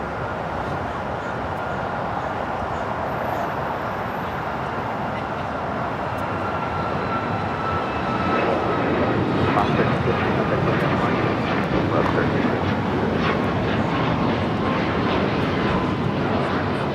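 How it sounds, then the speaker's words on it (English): A JetBlue airliner arrives at LAX from Fort Lauderdale: a steady, broadband jet roar that swells noticeably about halfway through and holds loud to the end, with no one talking. "That JetBlue flight coming in from Fort Lauderdale"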